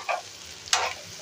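Spicy potato bhaji with salt being stir-fried in a pan, giving a soft sizzle with two brief bursts of a spatula scraping and tossing, close and fairly quiet, with no voices.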